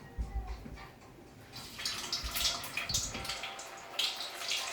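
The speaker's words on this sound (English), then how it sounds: "And the fat started bubbling away." Hot fat bubbling and crackling in a fryer as fish and chips cook for a crispy finish, a steady busy sizzle with louder hissing bursts, near and alone.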